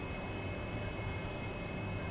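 The jet engine of an AV-8B in the DCS flight simulator game gives a steady, dense roaring drone with a faint high whine over it, unchanging and constant throughout.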